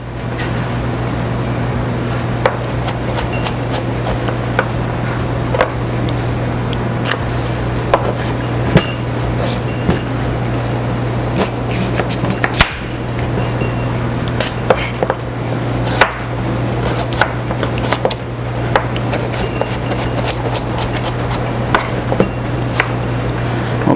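Carrots are chopped with a knife on a cutting board for a sweet potato hash, giving a steady run of sharp, close knocks over a constant low hum, with no talk.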